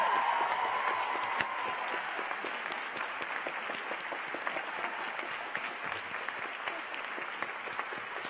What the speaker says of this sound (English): Could we have a round of applause for Dean Long for completing her first year